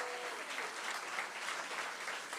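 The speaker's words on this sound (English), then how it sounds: "Give him a round of applause." Brief burst of steady crowd applause at a Philadelphia city event on America 250 celebration plans, dense clapping with no speech over it.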